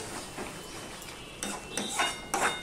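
Okra cooked in mustard oil and drying in a pan, stirred with a utensil: a few faint scrapes and light metallic clinks, quiet and close, with no voices.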